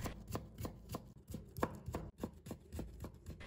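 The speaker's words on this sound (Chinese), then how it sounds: "再准备一块去皮的生姜，切成姜片，然后再切成丝" A knife chops peeled ginger into fine shreds on a board, a quick, steady series of crisp close taps with short pauses between runs.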